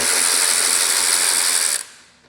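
A ratchet spins in a fast, even buzz of clicks while removing fasteners from the rack on a 2026 Vespa GTS 310 scooter, loud and close, then cuts off abruptly and fades out.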